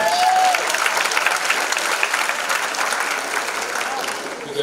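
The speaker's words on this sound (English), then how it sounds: "We clap for those things all those things." Audience applause fills a high school convocation hall, a steady, dense wash of many hands clapping at even loudness throughout, with a voice briefly audible at the start.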